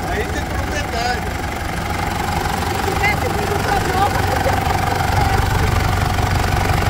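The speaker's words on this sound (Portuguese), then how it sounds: "Uma Pajero Sport com o motor da Triton." Mitsubishi Pajero Sport 2007 fitted with a Triton engine idling at an outdoor 4x4 gathering, a steady close rumble under the chatter of people talking nearby.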